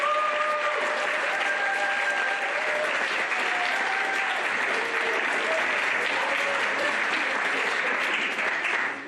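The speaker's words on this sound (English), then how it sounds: "Just give them a massive round of applause" An audience claps steadily and loudly for the young performers at a youth nativity, with faint voices and whoops mixed into the sustained applause.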